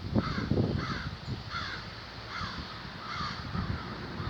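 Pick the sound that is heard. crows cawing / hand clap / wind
crows cawing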